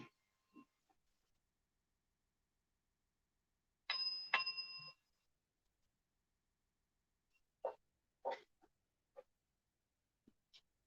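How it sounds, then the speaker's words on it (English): A meditation bell rings once during a New Thought Sunday celebration service, giving a brief bright ringing tone in quiet surroundings, followed by a few faint soft knocks. "So I'll ring the bell and then we'll step into a guided meditation."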